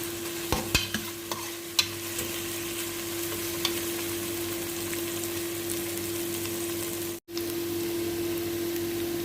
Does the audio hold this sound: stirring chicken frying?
yes